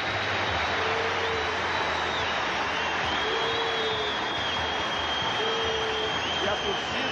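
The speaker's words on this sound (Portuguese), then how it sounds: "a torcida do Flamengo agora, ainda presente ao campo, aplaude o time do Santo André" Flamengo supporters still in the stadium applaud the Santo André side, champions of the 2004 Copa do Brasil final, as a steady, dense wash of clapping and crowd noise that fills the whole stretch at a distance.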